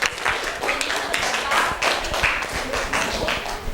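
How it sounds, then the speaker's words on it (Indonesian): Classroom applause for a student group after a presentation, a burst of scattered, uneven hand claps from a small class, fairly close and steady for a few seconds. "Tepuk tangan untuk kelompok"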